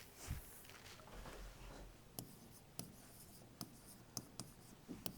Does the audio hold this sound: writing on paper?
yes